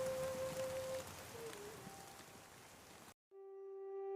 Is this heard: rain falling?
yes